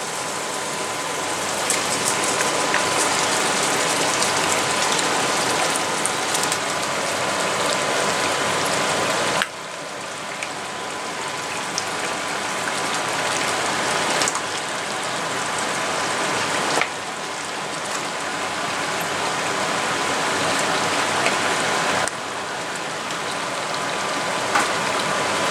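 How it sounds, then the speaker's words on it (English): Mutton pieces sizzling in a hot pan, a dense, steady crackling hiss that runs throughout at fairly even loudness, with a few abrupt shifts in level and no talking. "Now add the mutton pieces."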